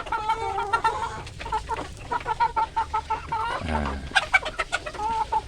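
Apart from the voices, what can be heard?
chickens clucking in a village chicken coop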